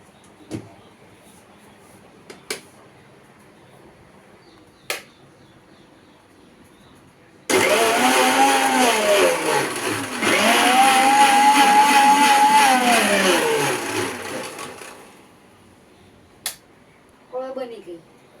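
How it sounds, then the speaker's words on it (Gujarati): An electric mixer blends two glasses of milk for cold coffee, a loud, close whirring that runs for about seven seconds, its pitch rising and dipping, with small clicks and knocks before and after. "હવે આપણે મિક્સરમાં બ્લેન્ડ કરીએ"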